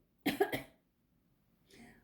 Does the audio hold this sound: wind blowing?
no